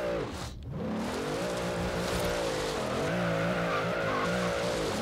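A video-game vehicle revs hard and skids during a wheelie attempt, its engine whining up and down in pitch over a loud continuous tire squeal, with no pause from start to finish.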